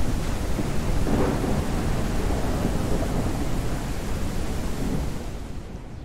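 Steady rain pours outside in the farming game Ranch Simulator, with low thunder rumbling through a continuous, loud wash of noise and no voices.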